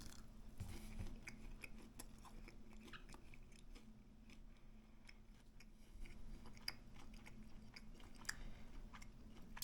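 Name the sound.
chewing garlic-roasted turkey tenderloin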